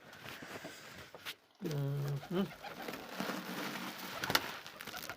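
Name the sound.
pet pigeons cooing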